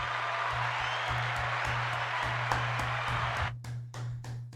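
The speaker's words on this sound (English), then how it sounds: "Give a round of applause" Sustained audience applause from a crowd, loud and dense for several seconds before thinning into scattered claps that fade out, with a steady low hum running underneath throughout.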